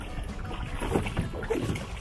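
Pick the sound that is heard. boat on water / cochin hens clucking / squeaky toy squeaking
boat on water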